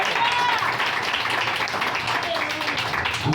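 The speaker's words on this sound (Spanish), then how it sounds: "Suéltale un aplauso a Dios." A church congregation claps and cheers at an evangelical service, dense sustained applause with a preacher's voice calling over it.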